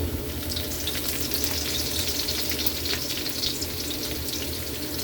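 Minced garlic sautés in a hot pan for pork sotanghon, giving a steady, close, bright sizzle with crackling oil that holds evenly throughout with no voices.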